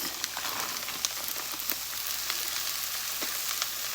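Potatoes and a bag of frozen vegetables hit a hot soup pot at medium heat, giving a steady close sizzle and crackle with scattered sharper pops throughout, no talking.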